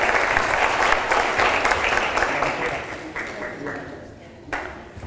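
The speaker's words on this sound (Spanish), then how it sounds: "recibiéndolo con un aplauso" An audience applauds to welcome a company's general manager onto the stage, steady crowd clapping that fills the hall and gradually tapers off toward the end.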